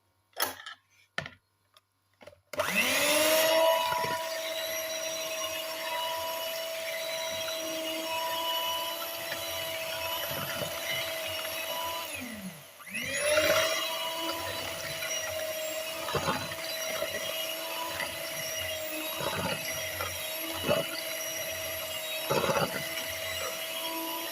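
An electric mixer beats coffee and cocoa cake batter, starting after a few clicks with a steady whirring drone, dipping briefly midway, then running on with faint knocks of the beaters against the bowl.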